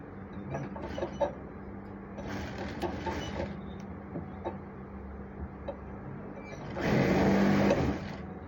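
A sewing machine runs stitches on danshiki fabric in several short bursts, with a longer louder run near the end and quiet handling sounds between.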